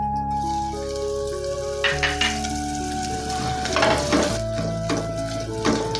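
Asafoetida dropped into hot oil for a Bengali tempering while cooking jackfruit curry, giving a steady close sizzle with a few soft clinks of a utensil over a sustained low musical tone.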